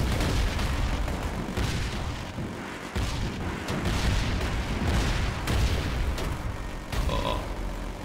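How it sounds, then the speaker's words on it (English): Rotary cannon fire in a military video game, a dense continuous roar of rapid booming shots with heavy low rumble, loud and sustained throughout with slight surges and no talking. "This rotary cannon is doing his stuff."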